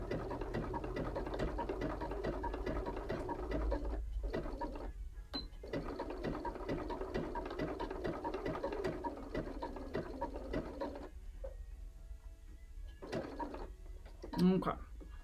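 A sewing machine zigzag stitches back and forth across a coiled rope coaster, giving a steady mechanical whirring clatter that runs continuously for most of the clip, with brief pauses and a short sharp click near the end.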